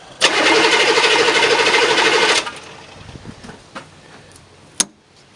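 Diesel engine with glow plugs on a K5 cranking steadily for about two seconds with a rapid rhythmic chug, then cutting off, followed by quieter clicks and one sharp clack, close and loud.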